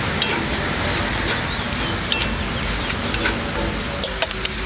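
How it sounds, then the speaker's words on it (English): Vegetables sauté in a cast iron pan for a street corn salad, giving a steady, dense sizzle throughout with small crackles and pops rising above it, fairly close and with no talking. "The veggies have been sauteing in here."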